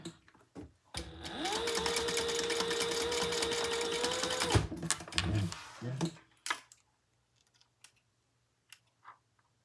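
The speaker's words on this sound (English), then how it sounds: "stitch that at 1/8 of an inch" A sewing machine runs a steady, continuous stitching burst for a few seconds, sewing a seam at 1/8 inch while making a crossbody bag, then stops, leaving faint handling clicks.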